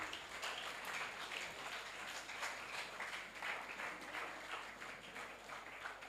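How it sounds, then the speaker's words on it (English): Continuous applause from a school workshop audience welcoming a speaker, a steady, fairly distant wash of many hands clapping with no break. "Keep clapping."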